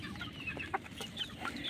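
Pet chicks peck and feed at a trough, giving soft cheeps and clucking calls close by, with scattered pecking taps and no talking.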